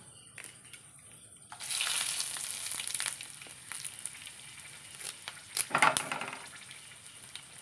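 Cumin seeds and dried red chillies hitting hot oil, a sudden loud sizzle that crackles on and fades slightly, with a brief spatter burst near the end.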